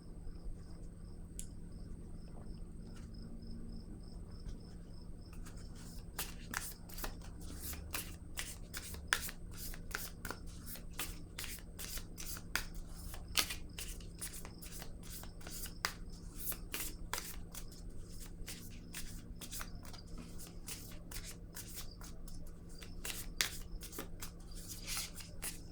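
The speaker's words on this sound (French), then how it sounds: "Je vais déposer une carte ici." Playing cards shuffled and laid down one by one during a French tarot-style reading, a steady run of close, crisp riffling clicks and soft slaps with no talk over them.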